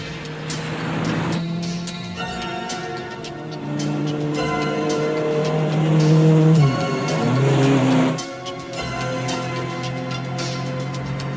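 A car driven hard in a film chase scene, its engine note rising and falling with a short tire squeal, loud and close with music or effects layered over it and no talk.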